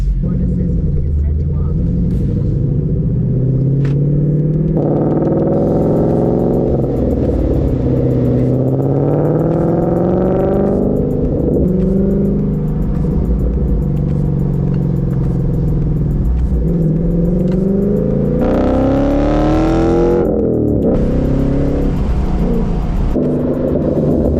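A 5.0 V8 Ford Mustang Coyote engine with an X-pipe and Roush axle-back exhaust rumbles and revs loudly and continuously on startup, its pitch rising and falling through several throttle blips, close by.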